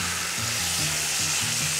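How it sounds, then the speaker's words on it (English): Loud, continuous sizzling of a beef chuck roast searing in hot oil in a cast iron Dutch oven, crackling steadily and close up. "just amazing sizzle. And I say it again, I'm addicted to that sizzle"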